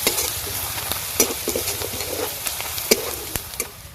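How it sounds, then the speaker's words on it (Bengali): Ground spices, turmeric, chili, cumin and coriander powder, sizzle in hot oil in a pan while a spoon stirs and scrapes them. The frying hiss is steady and moderately close, broken by irregular clicks and knocks. "সব কিছু মশলা ভাজা ভাজা করে নিয়েছি"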